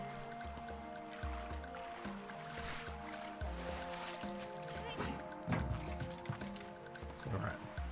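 Squelching, dripping splashes from a character wading through sewer water in the game Sable, close and steady over ambient musical tones, with a few heavier splashes toward the end.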